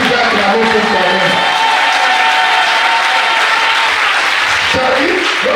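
An audience claps and cheers continuously with a dense, steady roar of crowd noise, loud and close throughout, apparently at a dedication event in Brazzaville.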